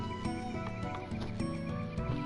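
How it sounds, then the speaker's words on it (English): Game sounds play from Dark Cloud as a monkey boss is struck, heard as dense, steady tones and effects with repeated hit sounds running throughout at a moderate level. "when you hit the monkey boss in this game, all I can think of is, look, I'm hitting Donkey Kong's ancestor"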